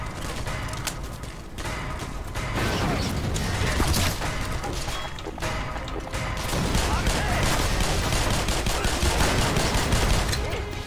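Repeated pistol fire from the video game Black Mesa, dense bursts of shots layered over busy in-game combat noise and mechanical clatter, sustained and loud throughout.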